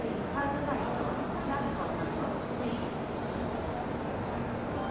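A Dibrugarh Rajdhani Express pulls out of a station with a steady rolling rumble of wheels on track and faint squeals, heard at platform level under a continuous wash of noise.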